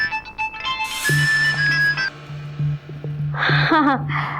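A phone ringtone chimes with a steady repeating tone, with short bursts of talk breaking in near the end.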